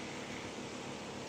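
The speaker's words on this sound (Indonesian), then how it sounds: "Itu suara dari kipas anginku." A steady, close whir from an electric fan, an even airy hiss with no change in pitch or loudness.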